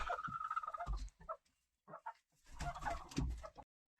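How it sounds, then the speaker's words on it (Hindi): Chickens in a village coop cluck and squawk in short bursts, close and fairly loud, with brief quiet gaps between outbursts. "तो यहाँ रहते हैं हमारी मुर्गियाँ।"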